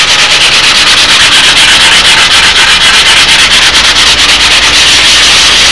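Rhythmic, loud rasping of sandpaper on a wooden model airplane, with steady back-and-forth strokes repeating evenly and closely throughout.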